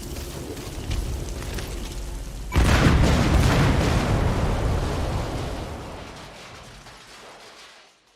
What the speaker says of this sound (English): Though security will be tighter after that explosion.